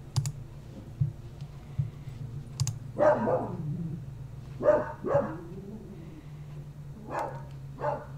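A dog barks a few times, sharp and fairly close, over a steady low hum with scattered clicking like keyboard or mouse taps.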